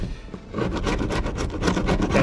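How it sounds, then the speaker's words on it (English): A big bladed screwdriver scrapes old silicone sealant out of a window frame, giving a steady, continuous rasping scrape with rhythmic strokes, close and fairly loud, with no talking. "Just going to use this like big bladed screwdriver and just scrape that out like that."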